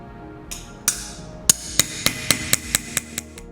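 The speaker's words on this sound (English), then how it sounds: "Using nothing more than an old ball peen and the anvil, I hammer both sides of the blade evenly" Old ball peen hammer cold-working a soft steel chef's knife blade on an anvil, about ten sharp ringing strikes close up that speed into a quick, even rhythm.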